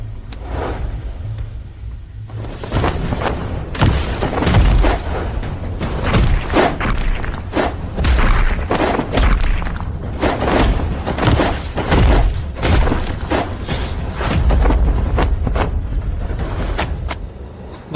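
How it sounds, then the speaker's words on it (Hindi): Giant stones hurled one after another in an animated warrior fantasy, a dense barrage of heavy booms and thuds that pound steadily and loudly for the whole stretch after a brief quieter lead-in. "वर्मा परिवार के अजय वर्मा ने 13 विशाल पत्थर उड़ाए।"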